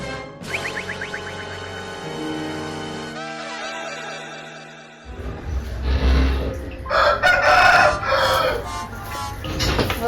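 A rooster crows at length, then a flurry of loud clucking and squawking chickens with flapping noise close by.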